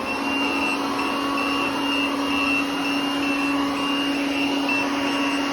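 OKP K8 robot vacuum cleaner running at maximum suction, a loud, steady whine with a persistent tonal hum that holds constant throughout, with no talking.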